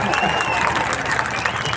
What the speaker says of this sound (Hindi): देखो महिलाएं ताली बजा रही है